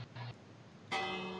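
Bells from a tornado siren in the Minecraft video game ring out in two bursts, a short quieter tone and then a louder sustained clang after a brief gap.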